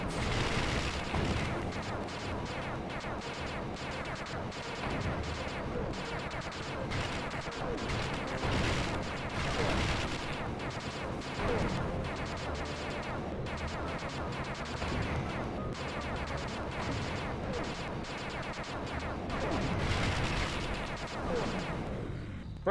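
Turret blasting repeatedly in the video game Sly 2, a dense run of booming shots and crashes layered with game music, moderately loud and sustained throughout.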